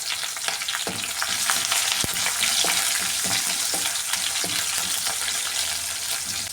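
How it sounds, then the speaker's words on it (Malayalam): Green chilies, curry leaves and dried red chilies sizzle steadily in hot oil for a tomato curd curry, a dense crackling hiss with occasional sharp pops and light stirring clicks, close and continuous with no talking. "പച്ചമുളകും കറിവേപ്പിലയും അതും കൂടെ ചേർത്ത് കൊടുക്കുകയാണ് ഈ വറ്റൽ മുളക് അതും കൂടെ ചേർത്ത് കൊടുക്കാം"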